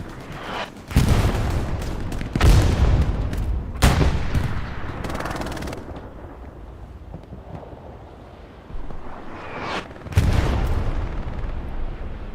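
Rocket strike and artillery explosions in Hell Let Loose on Utah Beach, loud booming blasts and bursts of gunfire arriving in heavy clusters, with a quieter lull before another close impact.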